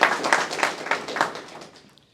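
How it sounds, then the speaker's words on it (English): A small crowd claps for the Housing Authority at a HUD event in Berks, a fairly close burst of applause that fades out after about two seconds. "So let's give them a round of applause."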